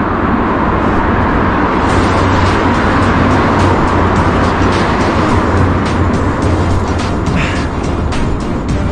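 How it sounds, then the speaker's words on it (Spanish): A large vehicle approaching from behind, probably inside a tunnel on a mountain road to Ticlio, Peru: a steady, loud, echoing engine and road roar with a low hum running throughout. "Detrás viene un carro grande, no."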